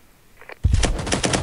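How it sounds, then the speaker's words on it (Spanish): Rapid automatic gunfire bursts out in the VR shooter game Firewall during an esports league match, a sharp rattling volley starting after a brief faint pop and continuing loudly to the end. "¿cómo suenan los disparos de Firewall?"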